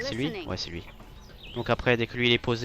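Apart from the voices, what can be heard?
No everyday noises stand out.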